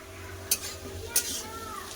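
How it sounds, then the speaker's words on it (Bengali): Potatoes and onions frying in a pan for an egg curry side, with a steady low sizzle and two sharp stirring scrapes about half a second and a second in, close and fairly quiet. "পেঁয়াজের সাথে আলুগুলো খুব সুন্দর করে ভাজা হয়ে গেছে"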